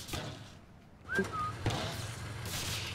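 A short rising whistle sounds in the Sniper Elite video game, followed by a dull thud and low in-game rumble, with a faint background hiss and no speech.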